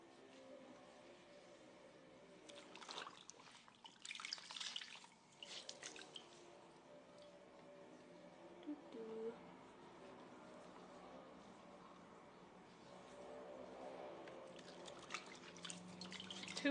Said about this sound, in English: I'm dripping all over the floor